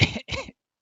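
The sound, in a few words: voice imitating a violent cough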